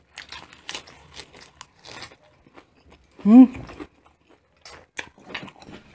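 Boneless Korean fried chicken eaten at close range during a mukbang, with scattered crisp crunches and chewing sounds, plus a short voiced hum in the middle.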